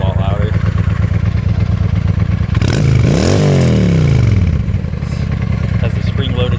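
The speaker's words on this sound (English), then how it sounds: "once you're revving it and stuff, though, it's a lot louder" A motorcycle with an aftermarket exhaust, fairly quiet at idle, is revved hard up close, one loud rising-and-falling rev surging over a steady rumbling engine.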